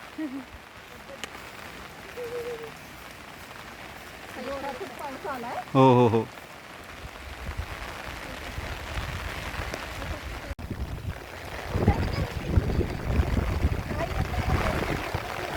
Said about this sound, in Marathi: छान पाऊस चालू आहे